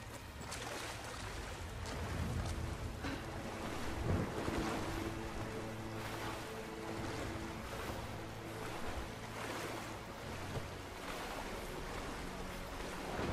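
Lara swims along a small river in Rise of the Tomb Raider, with continuous rushing, splashing water and a windy wash that stays steady and fairly soft throughout, with no talking.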